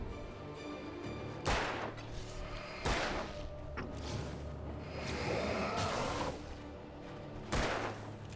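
Gunshots in Alan Wake ring out as four loud, spaced blasts about every one and a half to two seconds, each with a sharp crack and a rumbling tail over steady game ambience.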